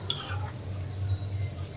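A spoon scrapes and stirs chicken curry being slow-fried in a pot, one short stirring burst near the start, then a low steady hum of cooking underneath.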